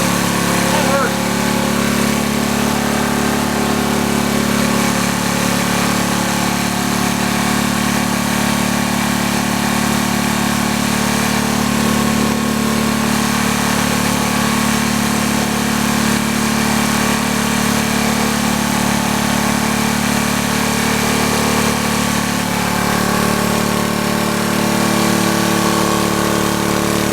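A small engine fitted with a Nelson muffler on a P.E. 77 D runs steadily at an even idle, loud and continuous throughout.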